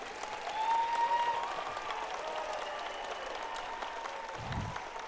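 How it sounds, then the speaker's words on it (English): Steady applause from parents filling a school annual day hall, even and moderately loud, with a faint sustained tone underneath and a brief low thump near the end. "Can I please hear a thunder of clap for our students' efforts?"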